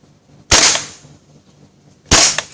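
An Army R36 gas blowback airsoft rifle fires two loud, sharp cracks about a second and a half apart. Each crack trails off in a brief hiss over near silence.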